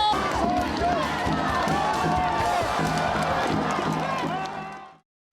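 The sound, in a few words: crowd cheering at rally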